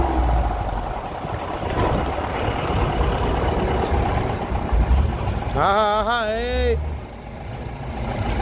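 A Leyland bus on a dirty, overloaded Northeast Indian road rumbles with a low engine drone and road noise, and a wavering horn sounds near the end. A person speaks briefly in the clip.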